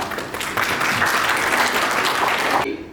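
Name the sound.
conference audience applauding a speaker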